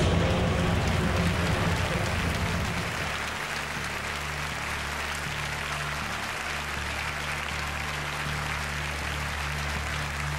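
A studio audience at the Miss Italia pageant applauds continuously, a dense, even wash of clapping that carries on throughout, with music underneath and no one speaking.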